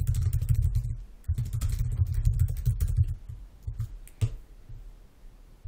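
Keyboard typing while writing a paragraph of HTML code, with dense rapid clicking for about three seconds, then sparser scattered keystrokes, close and fairly quiet.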